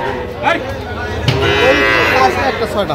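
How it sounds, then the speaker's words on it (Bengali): A young Sahiwal bull calf at a cattle market lets out a long, loud moo close by, with faint background noise. "শাহিওয়ালের ষাঁড় বাচ্চা"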